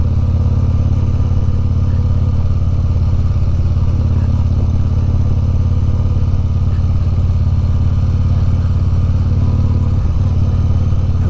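A Harley bagger motorcycle with Ohlins suspension rolls along with a constant loud engine drone and road rumble, with a faint clunk near the end as it rides over bumps.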